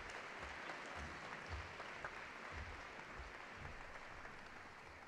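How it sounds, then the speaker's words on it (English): Applause at a Hall of Fame induction ceremony honoring a track and field inductee, a faint, distant wash of clapping from the audience that holds steady for several seconds. "a round of applause for our 2018 inductee, Kyle Boersma"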